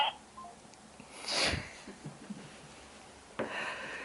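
A phone's keypad registers touches on its own while the phone is propped up, giving a few short dialing beeps near the start, followed by a soft rustle and a brief sharp burst in an otherwise quiet room.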